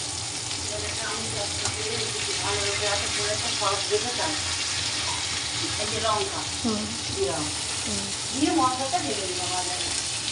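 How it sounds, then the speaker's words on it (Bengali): Whole pointed gourds (potol) fry in hot oil until reddish, with a steady, dense sizzle and occasional stirring clatter, close up, while someone talks over it. "দাঁড়া একটু লাল লাল করে ভাজি এই দেখো"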